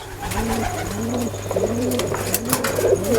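Silver and coffee-coloured pigeons coo close by in a loft, with repeated soft throaty rolling phrases over a steady low background hum and no talking.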